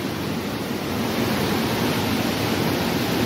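Water rushing steadily through a chamber at a water treatment plant, a dense, constant roar that holds level throughout with no other sounds.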